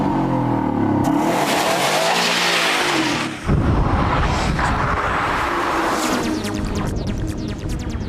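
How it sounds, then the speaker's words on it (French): A 1999 Subaru Impreza GT turbo with six-speed manual drives hard, its engine revving loud and rising through the gears, with a brief lift around a shift and sustained acceleration afterward; no voices. "la Subaru Impreza GT montre en revanche son vrai visage dès que la route fait des zigs et des zags"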